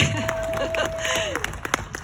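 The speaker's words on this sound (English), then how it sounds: "Please applaud." Crowd clapping at an outdoor rally for an Asian American curriculum bill in Cherry Hill, New Jersey, scattered hand claps building into brief applause, with a voice speaking over the start.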